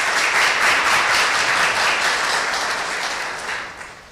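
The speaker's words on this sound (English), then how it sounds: "So a round of applause." A church congregation at a Sunday service applauds to welcome a new pianist: dense, steady clapping from many hands fills the space, holding loud for a few seconds before slowly tapering off.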